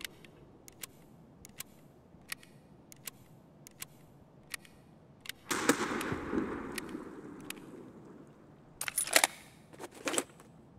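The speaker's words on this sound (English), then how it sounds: "Big grenade." A grenade blows up in a Tarkov firefight on the Customs map, a loud burst with a rumbling tail that decays over a second or so. Sparse sharp clicks come before it, and a cluster of sharp cracks follows.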